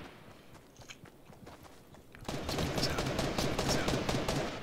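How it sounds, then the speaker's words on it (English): Rapid bursts of gunfire in the Fortnite video game, dense sharp cracks that grow louder and more sustained partway through, with faint background noise before. "Why are you shooting at me?"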